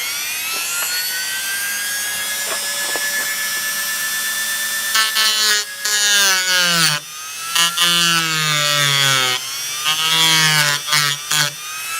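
A Dremel rotary tool cuts into a laminate bass guitar body, its high whine holding steady and then rising and dipping in pitch in bursts as the bit bites and eases off, loud and close with no talk.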